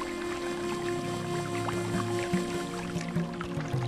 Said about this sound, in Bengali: নৌকাটা আর একটু গভীরের দিকে নিয়ে চল।